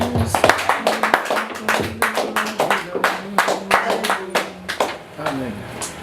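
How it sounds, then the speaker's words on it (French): A church congregation claps in rhythm to acclaim God, sharp, quick, steady claps over voices singing or chanting together, loud and close throughout. "Nous allons l'acclamer, l'acclamer, l'acclamer, c'est Dieu."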